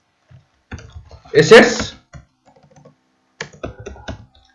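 Short bursts of computer keyboard clicks and taps come in two clusters, close and crisp, while a voice speaks between and over them.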